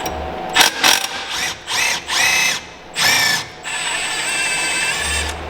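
Impact wrench with a 3-inch extension working on the brake caliper bracket of a Jaguar F-Type R, several short loud rattling bursts in quick succession, then a steadier whirring run close to the microphone.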